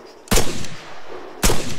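Two loud, booming .50 cal machine gun shots in the Arma III video game, about a second apart and close by, each with a rumbling tail and no talking.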